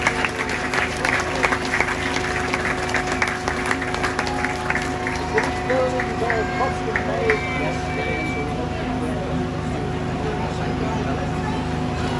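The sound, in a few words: audience applause at fire brigade demonstration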